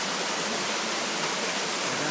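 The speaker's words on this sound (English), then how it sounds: "I'm in the waterfalls in Panama" A jungle waterfall in Panama pours in a dense, unbroken hiss of falling water, loud and close, with no other sounds breaking through.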